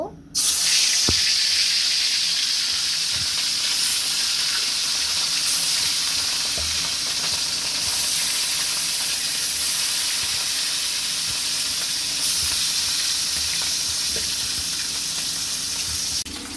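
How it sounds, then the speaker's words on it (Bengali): Katla fish frying in hot oil in a kadai, a steady close broadband sizzle that holds evenly from start to finish with faint clinks beneath. "মাছগুলোকে এবার ভেজে নিতে হবে এখন কাতলা মাছগুলোকে দিয়ে দিব"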